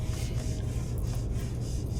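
Steady close abrasive rubbing of 80 grit sandpaper on a sanding block over Awlfair fairing compound during yacht paint repair, a continuous dry rasp with no pauses and no voices.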